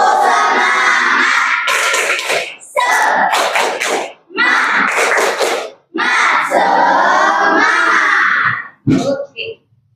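Schoolchildren in a classroom shout a rhythmic 'tepuk semangat' clapping chant together, loud chanted phrases in bursts with short pauses between them and claps mixed into the voices.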